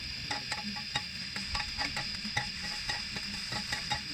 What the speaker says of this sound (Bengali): এটা ভালো করে নেড়েচেড়ে ভেজে নিতে হবে লাল করে।